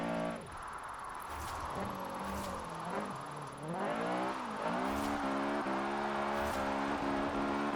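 A Honda Prelude's VTEC engine in Forza Horizon 4 revs hard through several climbing pitch sweeps, each cut by a quick shift, loud and close, with no voices.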